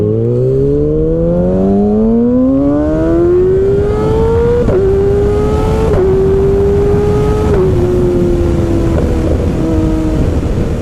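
A loud 2019 Kawasaki Ninja ZX-6R engine with a full M4 GP exhaust system revs steadily upward with a raspy exhaust note, then holds and shifts in pitch through several gear changes, continuous and close.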